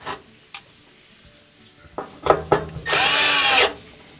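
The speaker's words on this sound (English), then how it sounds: "Just zipping in that quarter inch screw." Power drill driving a quarter-inch screw to secure the venturi tube during a gas oven repair, a single loud whirring burst of under a second after a few clicks and knocks from handling.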